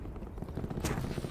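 Gunfire in Black Ops 4 Blackout on Alcatraz: a dense, rapid patter of low shots in a steady rolling rhythm, muffled and continuous over the whole short stretch, with one brighter burst near the end.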